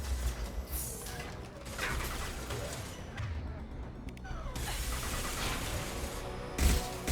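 Mass Effect 2 gunfire erupts in rapid bursts of shots and impacts. The volleys are loudest at the start and end, with a thinner stretch of sparse shots in between.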